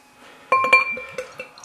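A Spitfire beer glass clinks sharply a few times in quick succession, bright ringing taps close up with short decaying tones, alone without talk.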